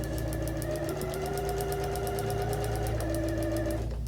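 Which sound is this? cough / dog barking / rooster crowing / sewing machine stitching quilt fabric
sewing machine stitching quilt fabric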